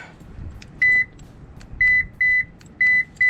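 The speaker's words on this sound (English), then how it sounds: "Car should beep." Short electronic beeps sound in quick pairs, repeating several times, loud and near, over a faint background hum.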